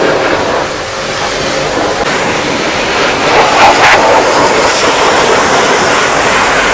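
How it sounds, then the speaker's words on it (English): A pressure washer sprays a car's engine bay, chassis and frame to rinse off diluted oily grime, a loud, steady, hissing water roar that fills the whole stretch without pause. "So we come back here with the pressure washer, targeting in here on the chassis, on the frame."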